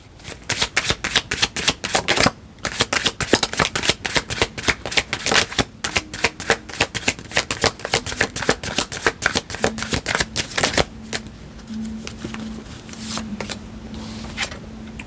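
Tarot cards being shuffled by hand in a steady run of crisp, rapid riffling flutters, brief pauses between bursts, close and alone, with a soft low hum in the last few seconds.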